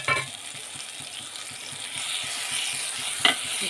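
Curry fries in a pan with a steady close sizzle and rhythmic soft stirring taps, one brighter scrape near the end.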